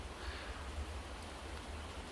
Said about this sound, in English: Oh crap, it's starting to rain.